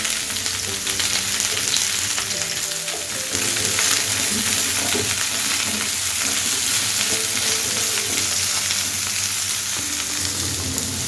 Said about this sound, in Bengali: মিডিয়াম ফ্লেমে সামান্য একটুখানি পটলটাকে আমি ভেজে নেব।